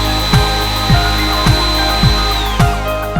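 A belt sander with a medium grit belt grinds a butter knife, giving a steady close whine with a regular thump roughly every half second as the belt seam passes.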